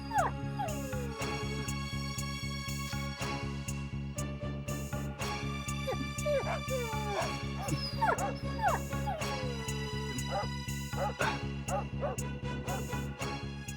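A dog whines and yelps in high, wavering cries against a steady tonal musical background, the calls recurring through the scene.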